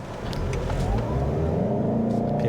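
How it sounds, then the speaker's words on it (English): Lexus ES300H F Sport hybrid sedan, 215 horsepower, pulling away from a stop in its sportiest mode: engine and road noise swell smoothly and hold steady, close and moderately loud. "215 horsepower is not a lot, but let's see how it takes off."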